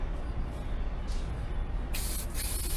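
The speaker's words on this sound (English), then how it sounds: "I like to smear some spray" An aerosol can sprays lubricant onto a motorcycle tire during a tire change in a continuous hiss, with a sharper, brighter burst of spray near the end, close and alone.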